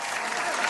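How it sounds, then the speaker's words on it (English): Brief burst of crowd applause, a dense wash of clapping hands filling the short moment at steady loudness with no pause. "Round of applause for that, I guess."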